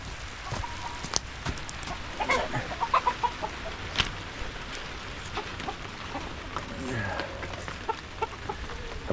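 Backyard chickens cluck and call on a rainy day, a mix of short near and farther squawks scattered over a steady patter of rain, with no talk.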